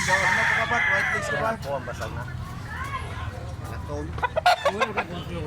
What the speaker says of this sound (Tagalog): Manok ni buyaks.